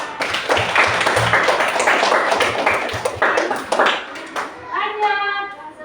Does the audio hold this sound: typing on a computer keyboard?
no